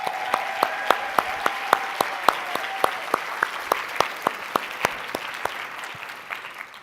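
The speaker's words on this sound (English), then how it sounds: "Let's give them a round of applause." An audience at a fundraising professionals' conference applauds its two co-chairs with a sharp, evenly spaced run of loud claps that carry on steadily and thin out slightly toward the end.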